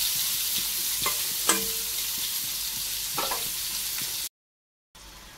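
Vegetables and chilli stir-fry in hot oil for a spicy-sweet curry, with a steady close sizzle and a few sharp clanks of a spatula against the pan. The sound cuts out completely for about half a second near the end.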